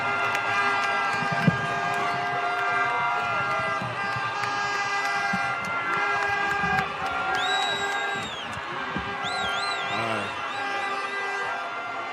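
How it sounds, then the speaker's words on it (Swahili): A crowd at a Jamhuri Day celebration in Nairobi cheers and applauds for the Nairobi governor, a dense, sustained roar of voices and clapping with whistles and shrill horn-like tones rising over it. "Wapi makofi ya gavana?"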